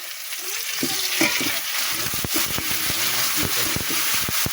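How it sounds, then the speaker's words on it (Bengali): Bata fish fries in a pan with potato, onion, turmeric and salt, a constant hiss of sizzling oil under repeated scraping strokes of a stirring utensil, close and loud, with a voice faintly in the background. "দিয়ে ভালো করে ভেজে নিচ্ছি"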